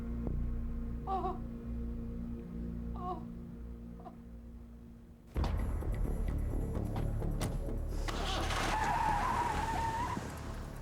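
A getaway car used in a street-crime attack skids off, a loud broadband burst of engine and tyre noise that starts abruptly midway and carries on, with a rising squeal near the end, after quieter background sounds.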